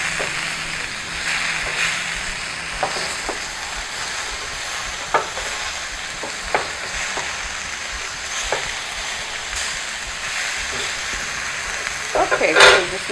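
A burger fries in a pan with a steady, close sizzle and hiss. Occasional soft clicks and scrapes from handling break through, with a louder clatter near the end.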